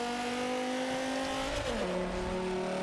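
A 2008 Dodge Viper racing in Forza 5 with a loud, steady engine drone and rising harmonic whine, then a brief upshift dip around the middle before the note climbs again, alone without talk.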